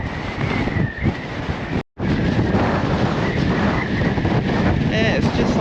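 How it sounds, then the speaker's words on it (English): Strong wind buffets the microphone on the Blackpool seafront promenade, a loud continuous roar that cuts out for a moment and then returns. "trying to battle against this wind."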